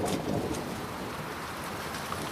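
Steady rain pouring down, a dense continuous hiss with a low rumble underneath, no voices.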